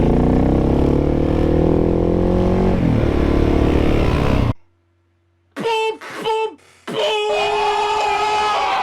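A Suzuki DRZ motorcycle engine drones loudly and steadily, cuts to sudden silence, then returns with a few sharp, choppy revs before settling into a sustained roar.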